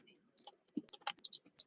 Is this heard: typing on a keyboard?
yes